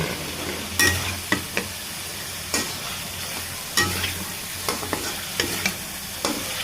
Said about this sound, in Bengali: আলুটাকে এখন কষিয়ে নেব মশলার সাথে